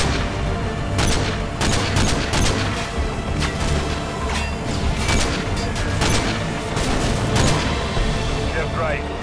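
Sniper rifle fire from Call of Duty: Modern Warfare 2 rings out in a loud barrage, with sharp cracks and booms repeating over a dense rumbling battle backdrop while voices talk underneath.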